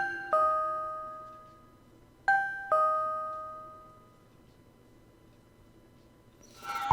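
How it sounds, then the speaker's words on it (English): A doorbell in The Silver Case video game chimes three times, two rings close together then one shortly after, each ringing out and fading over a quiet hum, followed by a short rustling noise at the end. "each doorbell is just becoming a bit more creepier and creepier for me"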